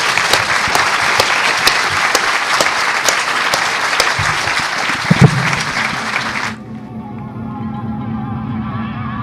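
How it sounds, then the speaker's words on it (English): An audience at the HOPE X hacker conference gives a loud, dense round of applause for the speakers, lasting several seconds before stopping abruptly and leaving a low room hum. "we'll give these folks a round of applause"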